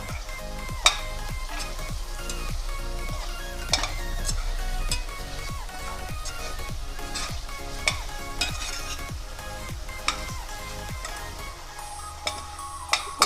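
Chicken sizzles and fries in korma masala while a spoon stirs it around the pan. Steady loud frying runs throughout, with a rhythmic scraping of the spoon roughly every half second and occasional sharp clinks against the pot.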